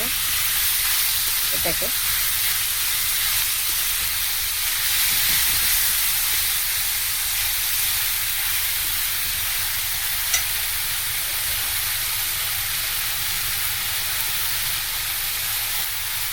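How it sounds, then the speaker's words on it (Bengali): Chopped green chillies fry in oil in a pan, giving a loud steady sizzle and hiss that runs throughout, with a few stirring scrapes and a brief voice speaking once. "ভালো করে ভেজে নেব"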